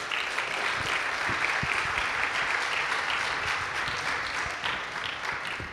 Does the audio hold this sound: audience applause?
yes